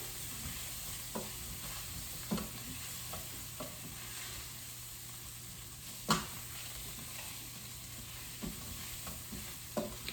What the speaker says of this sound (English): toss your vegetables all around in the tomato paste and the anchovy